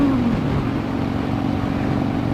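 A heavy truck drones past at close range, heard from a motorcycle rider wearing a Shoei RF-SR helmet: a loud continuous engine rumble with a low hum over steady wind and road noise.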